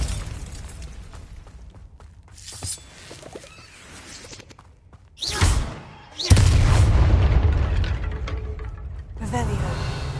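Bombarda spell blasts in Hogwarts Legacy produce heavy booming explosions with crumbling debris; a sharp blast lands midway, and a longer, louder rumbling burst follows and trails off.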